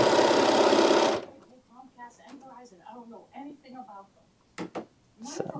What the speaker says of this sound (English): And then I just sew right over that previous line.